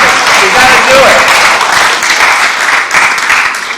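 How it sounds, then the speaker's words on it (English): A lecture audience claps together at a talk on sugar and metabolic disease, a loud, dense burst of applause that fills the room and fades slightly toward the end, with voices faintly mixed in. "let's just clap to stop soft drinks"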